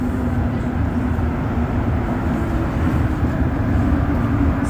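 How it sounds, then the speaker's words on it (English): A Montreal Metro train rolls steadily toward Atwater station, giving a loud, continuous rumble and whine heard from inside the car, with no talking. "so that's it for the train ride"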